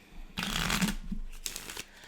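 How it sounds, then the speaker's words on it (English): A large, double-sized deck of cards is riffle-shuffled close by, giving a crisp fluttering burst followed by a shorter second riffle and light card taps. "let me go through and shuffle, and then we will draw"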